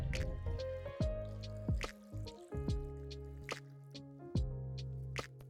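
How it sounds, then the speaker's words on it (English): Water splashes and drips into a small Ganesha-shaped container in irregular bursts, with wet plopping sounds and quiet trickling between them. "Then comes our Ganesha, filling it up with water."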